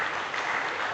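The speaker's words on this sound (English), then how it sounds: "A round of applause again to Professor" An audience at an international conference claps in a brief, steady burst of dense applause.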